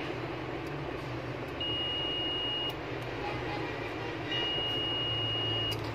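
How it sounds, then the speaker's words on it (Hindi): Beeps from a tester while checking a mobile phone circuit board for a short: two sustained, steady high tones, the second longer, sounding over a constant background hiss. "तो दोस्तों अभी भी यहाँ पर बीप आ रही है।"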